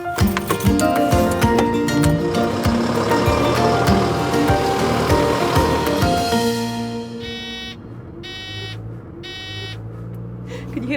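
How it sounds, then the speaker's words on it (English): A road sweeper's repeated electronic beeps in short evenly spaced bursts sound over its engine rumble and road noise, clear and fairly close. "Can you hear that beeping sound?"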